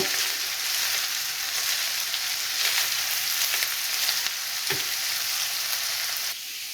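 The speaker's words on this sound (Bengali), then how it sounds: "পাতাকপি দিয়ে আমি দুই তিন মিনিট নেড়ে চেড়ে চুলার জলটা বন্ধ করে দেব" Shredded cabbage frying in a pan, a dense continuous sizzle held close and steady, with occasional stirring scrapes and a soft clack near the end.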